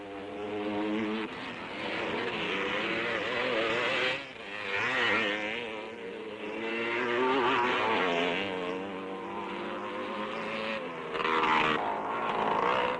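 Two-stroke CZ250 motocross motorcycles race at a 1968 world championship event, engines droning and rising and falling in pitch as riders pass, the roar steady and fairly distant throughout.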